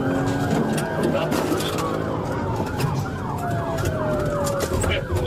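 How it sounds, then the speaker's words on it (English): A police car siren wails continuously and loudly, its pitch sweeping up and down over the rumble of passing road traffic during a chase. "Some chases begin with a siren."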